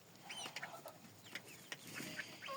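Soft clucking from several Chinese Silkie and frizzle chickens nearby, with short irregular calls over a quiet background.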